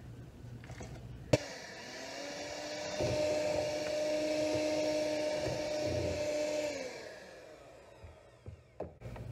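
Electric mixer beaters whip dry ice cream in a kitchen science demonstration; a sharp knock, then a steady whining motor hum for about five seconds that cuts off, followed by a few soft clunks.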